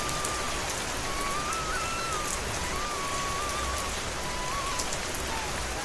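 Steady rain pours down in a cartoon, a dense continuous hiss of drops on surfaces, with a faint high tone drifting above it.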